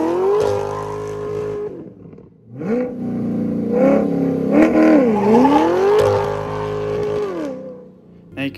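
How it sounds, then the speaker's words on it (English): A 2020-2024 C8 Corvette revs hard in a burnout, its engine note climbing and falling in loud sweeps with tire squeal, a brief dip in the middle before the roaring resumes. "Now you can do a standing burnout by keeping your foot on the brake and feathering the throttle using the burnout mode."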